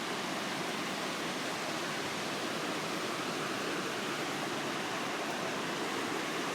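A rapid river in Medicine Butte Forest, Wyoming, rushing in a constant broadband roar, steady and fairly distant with no other sounds.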